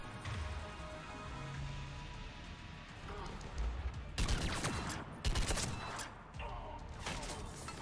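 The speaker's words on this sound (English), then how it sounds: "Who else is shooting at me?" Mass Effect 3 combat with sharp bursts of rapid gunfire that break out midway in loud volleys separated by short pauses, preceded by quieter background action.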